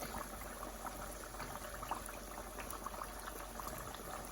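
Blood oranges, Cara oranges and garlic in hot oil for crispy carnitas give a steady, faint bubbling sizzle that holds evenly throughout without speech.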